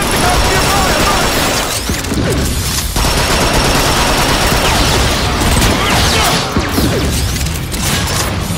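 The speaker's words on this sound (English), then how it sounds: "Jump on the dropship and man the cannon." Dropship cannon blasting in Transformers: Fall of Cybertron, a loud, dense barrage of rapid shots, booms and metallic crashes that continues nonstop amid game effects.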